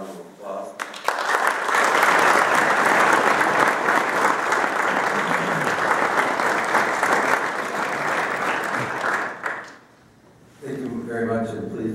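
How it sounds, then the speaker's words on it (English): Ceremony audience at a police Officer of the Year award event applauds the honor guard, loud continuous clapping that builds quickly, sustains, then stops abruptly before a voice resumes. "could we please give the honor guard a round of applause?"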